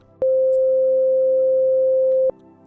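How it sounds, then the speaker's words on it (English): A pure sine wave tone on C4 from an Operator synth, one steady unwavering note of about two seconds with sharp clicks at its start and end, loud and alone. "I've loaded in a note on C4 and operator, and it's just playing a sine wave"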